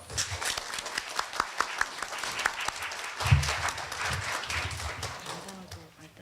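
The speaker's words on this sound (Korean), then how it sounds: "다시 한번 박수를 부탁드립니다." Audience applause at a university lecture event in a hall, a steady wash of clapping with some sharper individual claps and faint voices mixed in, moderately loud throughout.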